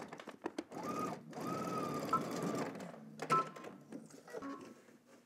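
A sewing machine runs in steady bursts while stitching a seam on shorts sewn from Simplicity pattern 9758: a long continuous whir, then a brief stop and a shorter run, with a few clicks and soft handling noises in between.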